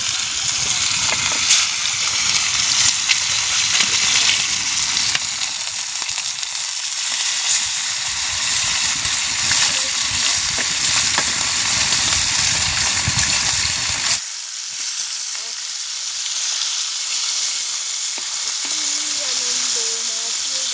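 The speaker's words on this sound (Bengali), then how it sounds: "মাছ ভাজবো।" Turmeric-rubbed fish fries in hot oil on a griddle in a village kitchen, a loud, steady, close sizzle that drops and thins briefly partway through, then keeps crackling.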